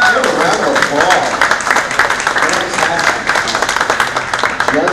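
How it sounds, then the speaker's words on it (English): Audience applause at the Sam's Club National 2015 cooking competition, a dense, steady patter of many hands clapping close by for about five seconds, with voices talking and cheering over it throughout. "Give a round of applause."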